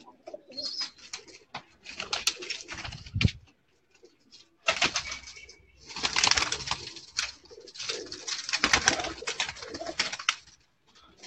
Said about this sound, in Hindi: ये जी बड़ा कबूतर है 41 नंबर, जिससे मैंने ये ब्रीड तैयार की।